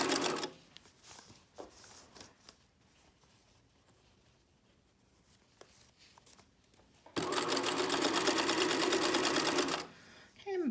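After quiet handling noises and faint rustling, a sewing machine runs in one loud, steady burst of about three seconds, stitching elastic over the shoulder seam of a bralette, then stops abruptly.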